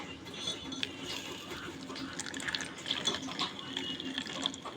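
A glass of water poured into a hair colour mix, giving a continuous light splashing and trickling of liquid at close range with no talk.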